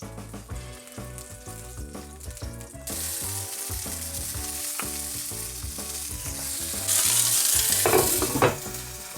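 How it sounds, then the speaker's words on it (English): Garlic, chilies and Szechuan peppercorn hit hot oil for Nepali momo filling, giving a continuous sizzle that swells louder partway through and grows brighter near the end, with light clinks and stirring, close and alone without talk. "once that's heated, we're gonna throw in our garlic, chilies, and Szechuan peppercorn"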